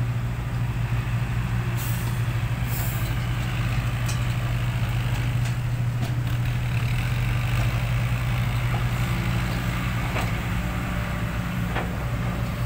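Kubota tractor and excavators working on a Thai earthmoving site, a steady loud diesel drone with a strong low hum throughout, broken by brief hissing and clanking bursts from the machinery.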